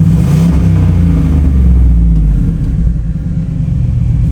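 A 2015 GMC Sierra with a new turbo idles and is revved lightly up close, giving a steady low rumble that swells briefly and then settles, with no voices.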